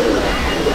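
Pigeons coo inside a loft of Andhra pigeons in Barasat, a short low warbling coo close by over a constant background hum.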